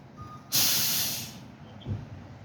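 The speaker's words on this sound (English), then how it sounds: "That'd be the tow truck right there." A tow truck pulls up at a scene where a car backed into a building, releasing one loud burst of air brake hiss that fades over about a second, followed by a low engine rumble.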